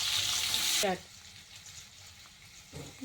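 Chopped onions with black cumin seeds hit hot oil in a pan, giving a loud, bright sizzle for under a second before it cuts off abruptly to a quiet background.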